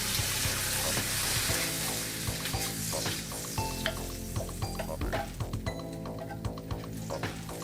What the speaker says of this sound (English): Cook that together for about 5 minutes until all the seasonings are mixed well with the milk